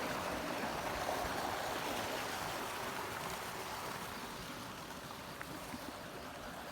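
Irrigation water flows from a pump outlet into a paddy field, a faint, steady rushing wash that runs unbroken throughout, with no one talking.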